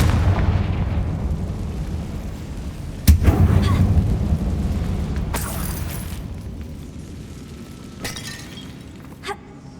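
Confringo spell exploding inside a closed mine tunnel in Hogwarts Legacy: a sudden blast that rumbles and fades, with a few fainter crackling impacts after it.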